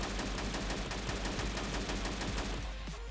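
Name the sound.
AK-12 single shot gunfire in ArmA 3 video game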